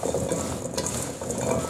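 Seasoned vegetables being tossed and mixed to coat them before oven roasting with chicken: a short, close, soft rustling and scraping of stirring, with no voices.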